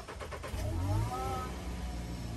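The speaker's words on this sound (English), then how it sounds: "Like if I turn the car on right now" A 2020 VW Jetta engine cranks with a few quick starter pulses, catches with a slight hiccup, and rises to a brief rev before settling into a steady idle. The sound is close and moderately loud.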